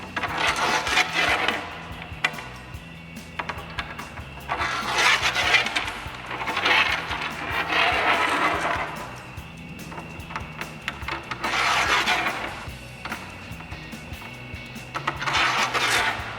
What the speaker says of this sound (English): grab 8 of our provided mounting bolts for our brackets, and we're going to put 4 in each channel. So we'll slide those in the end.